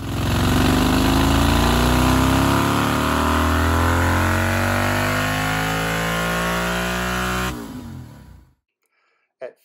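A Royal Enfield 650 Twin on a dyno, fitted with an S&S air cleaner, S&S race-only mufflers, Revelry racing headers, an S&S cam and a Powertronic tuner, roars loud and close at steady high revs before cutting off and winding down.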